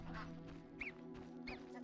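Geese honking in a village inside a video game, a few short faint nasal honks spaced apart over a low steady background hum.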